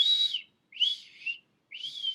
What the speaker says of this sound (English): I've been learning to whistle.